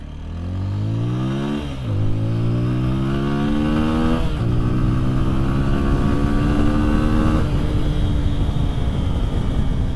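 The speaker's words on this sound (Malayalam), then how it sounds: "200cc നല്ല ബേസുള്ള ഇടിവെട്ട് സൗണ്ടുള്ള ബൈക്കാണ്" A 2025 TVS Apache RTR 200 4V motorcycle with a 200cc SOHC engine revs up loudly and close by, its pitch climbing in repeated throttle sweeps over a deep, bassy exhaust drone, with no voices.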